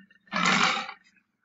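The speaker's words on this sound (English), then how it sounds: "Like the other big cats, they have a great roar." Big cat roar, one loud, breathy, rasping burst lasting under a second, close and on its own.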